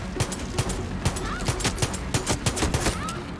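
Rapid gunfire in the Far Cry 6 video game, a dense burst of repeated shots at a steady fast rhythm over continuous game background noise, loud and close.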